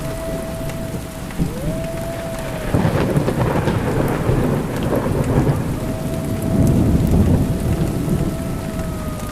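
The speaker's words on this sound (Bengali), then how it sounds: "অঝোর বৃষ্টি শুরু হয়ে গেল।" Heavy rain pours steadily with rolling thunder rumbling through, loud and continuous, with a thin sustained tone drifting in and out underneath.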